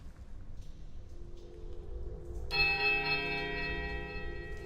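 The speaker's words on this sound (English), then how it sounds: "The bells toll a high piercing note, a startling power." Heavy, thick iron temple bells in Pillars of Eternity strike once with a loud, ringing tone that sustains and slowly decays. Faint ambient sound comes before the strike.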